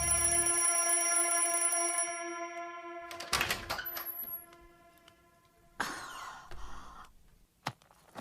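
A bright, sustained metallic ringing from an alarm clock fills the opening seconds, then gives way to clattering knocks and scattered sharp clicks.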